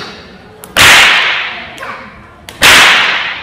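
Stock whip cracked in an up-and-down motion alongside a horse, giving two loud, sharp snaps about two seconds apart, each preceded by a faint swish and followed by a short decaying tail, with no speech.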